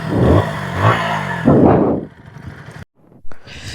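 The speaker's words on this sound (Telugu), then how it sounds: "ఇది ఒకసారి ఎగ్జాస్ట్ సౌండ్ కూడా కరెక్ట్గా విందురు" A KTM Duke 160 motorcycle's exhaust revving close up, a loud engine note swelling through two throttle blips before dropping to a quieter idle and cutting off, followed by a short burst.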